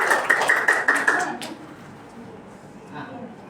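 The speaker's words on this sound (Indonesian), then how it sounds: "Tepuk tangan dulu." Children clap their hands in a short burst of applause in a classroom lesson, a dense flurry of claps that fades out within about a second and a half, followed by quiet room sound.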